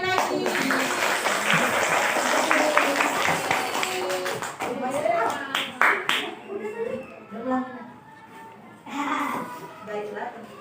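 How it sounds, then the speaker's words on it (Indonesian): Small group of people clapping in a classroom, rapid scattered claps that thin out and fade, mixed with children's voices and chatter. "Kasih tepuk tangan sekali lagi."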